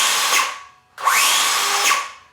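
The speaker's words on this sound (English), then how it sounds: "it just sounds so much different than like a brush circular saw" A Ryobi P508 brushless 7 1/4 inch circular saw spins up with a high whine and then brakes to a quick stop, twice in succession, close and loud with no talk.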